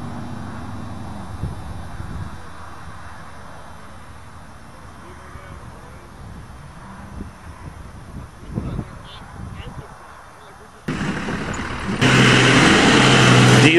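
A well-worn Dodge diesel pickup with nearly 300,000 miles rumbles in the background under people talking, then its engine roars louder and revs hard near the end as it spins donuts.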